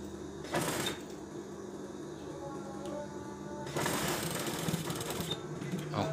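A sewing machine stitches a shirt cuff in two bursts, a short run followed after a pause by a longer steady mechanical whirring, close and moderately quiet.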